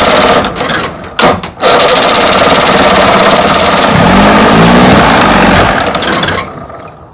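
A 1980 Chrysler 45 hp outboard motor, freshly tuned after poor running, cranks in short bursts then catches and runs, a loud close buzzing drone that holds steady and changes pitch before cutting out.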